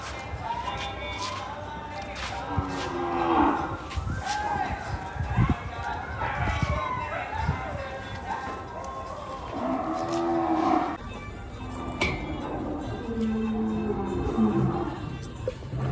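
Cows moo repeatedly in a cattle shelter, several long, drawn-out calls overlapping at close range, with people talking in the background between them.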